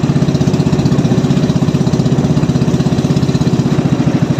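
Small boat engine running steadily and loudly up close, a fast, even mechanical throb that holds without a break, with no speech over it.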